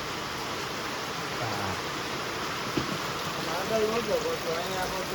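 Rain falls steadily on a roadside in Gir, a dense, even hiss up close, with faint voices and a few soft knocks underneath.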